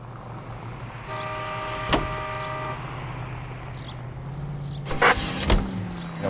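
Car driving in the LA Noire video game: steady engine hum with a sustained horn-like tone midway, a brief knock, and later a louder mechanical whir and thump, no talking.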